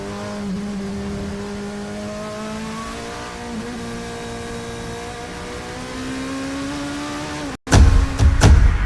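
A Gibson GL 458 5.8-liter naturally aspirated race car engine drones steadily from inside the cockpit, its revs gradually climbing, then cuts abruptly into a loud, harsh burst of roaring exhaust.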